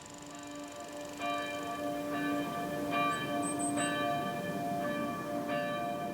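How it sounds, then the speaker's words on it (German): Village church bells in Berghofen ring the evening bell, now machine-driven rather than hand-rung: repeated resonant strikes with long ringing overtones, starting after a quiet moment and continuing in a slow steady rhythm at moderate distance. "Aber die Glocken klingen immer noch wie früher, auch wenn sie nicht mehr per Hand geläutet werden."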